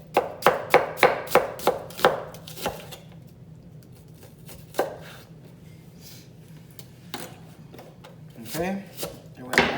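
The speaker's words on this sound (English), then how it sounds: "So we're cutting the white onion" A knife thinly slices white onion on a cutting board for curtido to serve with pupusas. A quick, even run of sharp chops comes first, then a few scattered strikes with quieter gaps between them.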